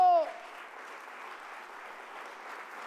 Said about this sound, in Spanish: Pónganse de pie y denle un fuerte aplauso a Jesucristo.